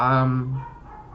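Dogs at home bark and whimper in a quick, loud burst close by, then trail off into quiet.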